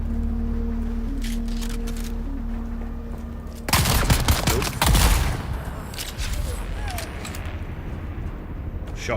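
Shotgun fire in the video game Dune Awakening: a quiet steady hum, then a dense burst of loud, close blasts over about two seconds, fading into lighter game noise with faint voices.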